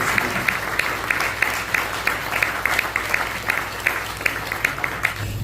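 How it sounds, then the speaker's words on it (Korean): A church congregation applauds at a pastor's retirement and installation thanksgiving service, a steady crowd clapping with a few sharper individual claps standing out, ending abruptly near the close. "다시 한번 뜨겁게 박수로 맞겠습니다."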